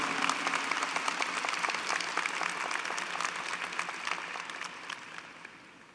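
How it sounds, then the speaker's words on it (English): Graduates at a college commencement ceremony applaud themselves, a dense, sustained wash of many hands clapping that heard from a distance slowly thins toward the end. "class of 2019, give yourself a round of applause because you deserve it more than you could ever know"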